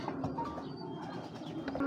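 Racer pigeons cooing in a loft, soft repeated low coos from a few birds close by, with faint chirps scattered between them and no talking.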